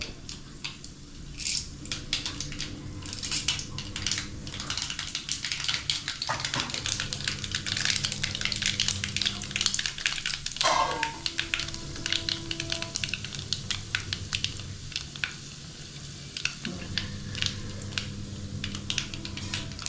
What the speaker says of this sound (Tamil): அடுத்து இப்போ எண்ணெய் ஊற்றி கடுகு உளுந்தம்பருப்பு